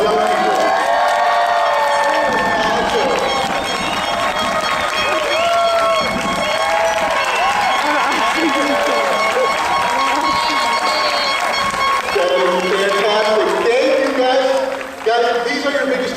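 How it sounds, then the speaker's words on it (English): An audience at a 2021 graduation ceremony cheers and applauds the graduates, a loud, dense wash of clapping and shouting voices that runs unbroken for the whole stretch. "let's cheer for these guys because they are an amazing group of young people"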